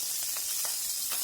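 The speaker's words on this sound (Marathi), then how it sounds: "आता या पॅनमध्ये मी ते भाजलेले कांदे घेतले, ते परत थोडेसे परतून घ्यायचे." Roasted onions sauté in a pan with a little oil, a close, continuous hissing sizzle with faint stirring pulses and no voices.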